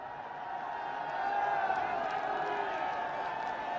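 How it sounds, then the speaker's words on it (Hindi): A large crowd applauds and cheers to welcome the Prime Minister at a public event in Jewar, Uttar Pradesh, a sustained roar of clapping and voices with tonal sound running beneath it. "आप अपने उद्घोष, जय घोष और तालियों से उनका स्वागत करेंगे"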